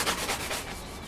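Close, raspy scraping of sandpaper rubbing back and forth in a few quick strokes over primer on a motorcycle part, with no talking.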